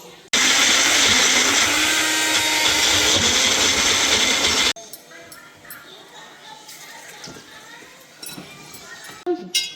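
Blender crushing chickpeas into hummus with added olive oil, a loud steady whir running for about four seconds before cutting off, followed by quieter kitchen room sounds.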